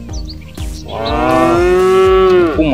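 A toy mother cow gives one long, loud, wavering moo, the electronic animal sound of a toy truck loaded with animals, rising after a short rustle and holding steady before a brief dip at the end.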